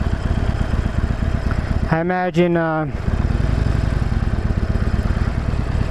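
A Harley-Davidson Forty-Eight cruiser idles with a steady, loud rumbling pulse throughout, briefly masked for about a second when someone speaks close by before the engine's throb resumes.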